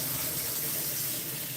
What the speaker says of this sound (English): Put some running water.